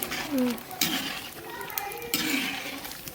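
Food is stirred in a pan with a utensil that scrapes and clinks, giving a few distinct scrapes under intermittent nearby talk, with a voice in the background.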